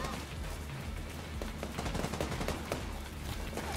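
Rapid gunfire from a shooter game, The Division 2, crackles continuously as a dense, loud barrage of overlapping shots with no gaps, sustained across the whole stretch.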